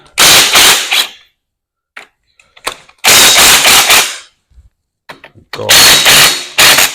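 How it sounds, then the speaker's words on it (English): Cylinder head bolts come off an International Harvester 140 tractor in loud, close bursts from an impact wrench, each lasting about a second, separated by short pauses with faint clinks. "Now I see to go ahead and pop the cylinder head bolts out."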